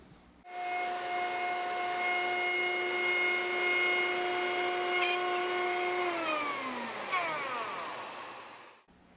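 A power tool routing a 10.5 mm deep truss rod slot in a rosewood Telecaster neck, a loud steady high-pitched whine that runs alone for several seconds, then winds down with a falling pitch.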